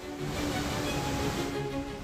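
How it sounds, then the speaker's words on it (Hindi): The Rajdari waterfall in Chandauli's Naugarh forest area pours in a steady, dense broadband roar with no break, close and fairly loud. "हरी भरी वसुंधरा पर कल कल बहता झरना।"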